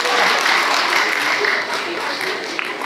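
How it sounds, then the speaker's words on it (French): A room of people applauds the organisers of an eloquence contest: loud, dense, continuous clapping that fills the whole short stretch and eases off slightly toward the end. "l'organisation de Belle Éducation qu'on peut applaudir"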